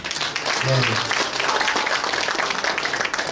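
An audience at a Chungcheong hometown association's year-end evening in Jongno claps for a guest being introduced, steady applause with a voice speaking over it.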